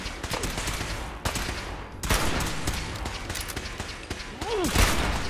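Gunfire in Fallout 4 cracks out in dense repeated bursts with sharp individual shots, loud and close, mixed with game effects and a voice talking over it.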